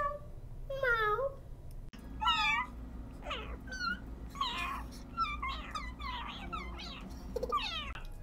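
A cat meows repeatedly, a run of about eight distinct rising-and-falling meows close by, loud and clear over faint background noise with no talk.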